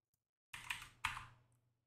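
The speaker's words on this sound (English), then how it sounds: "So we're just gonna type it in manually." Two short bursts of typing on a computer keyboard while entering a network address by hand, close and crisp, with quiet between the keystroke clusters.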